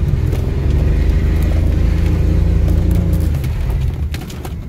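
A BMW E36 engine runs flat out with a loud, sustained droning roar that holds steady, then eases off near the end as scattered crackles and scrubbing tire noise come through during a skid.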